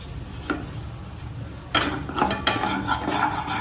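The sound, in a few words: stirring maida flour into butter in a pan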